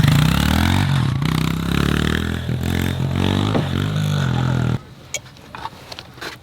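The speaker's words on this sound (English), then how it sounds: "Back on the dirt bike, huh?" A dirt bike engine revs loudly and steadily up close for several seconds, then cuts off abruptly, leaving faint scattered knocks and rustles.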